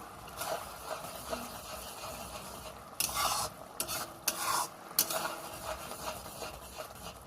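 Tomato chutney cooking down in a pan in a Bengali kitchen: a soft, continuous sizzle under scraping stir strokes, with several sharper, louder stirs midway, close and without talk.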